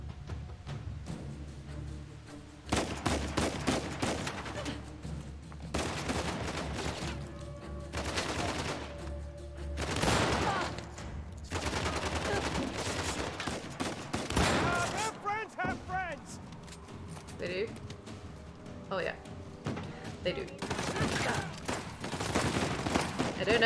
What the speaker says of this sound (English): A shotgun with actual range in a game?